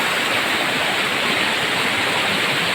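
A river in Aurora Province flows close by as a steady, full rush of water, an even hiss with no breaks and no voices.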